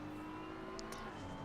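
A BMW race car engine running without an exhaust in a racing video game at Spa, a steady droning whine that rises slightly in pitch, with no talking.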